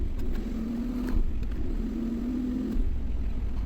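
A Mercedes-Benz E350 engine idling in park, a steady low rumble with a faint tonal hum that swells slightly twice, heard close and alone.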